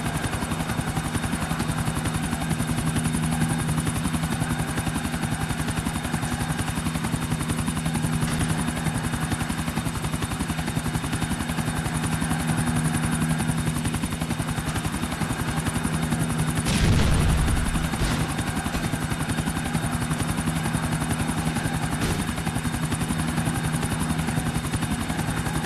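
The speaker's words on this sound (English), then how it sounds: "The Sprunk chopper almost getting hit by another Sprunk chopper." A Sprunk helicopter in a video game race keeps up a loud, steady rotor thump throughout, with a brief louder whoosh as something passes close by partway through.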